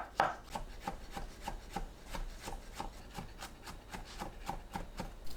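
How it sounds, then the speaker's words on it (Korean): Button mushroom stems are chopped small with a knife on a board, a quick, even run of soft close taps in a steady rhythm with no talk. "양송이 버섯은 갓과 대를 나눕니다. 대부분을 작게 썰어주세요."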